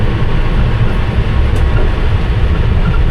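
A London Underground Piccadilly line train runs along the track, heard from inside its rear cab as a loud, steady low rumble with continuous rattling and no pauses.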